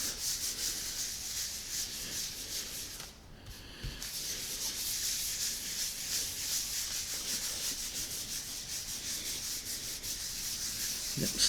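Cloth wiping ink off a dry point printing plate with deep Dremel-cut indentations, a steady close rubbing hiss that continues almost without a break, with one short pause partway through.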